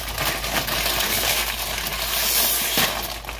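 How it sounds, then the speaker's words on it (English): A bag of chips is torn open and handled at close range, giving a sustained loud crinkling and rustling of foil-like plastic with a sharper crackle near the end, no talking. "Noisy chip opening."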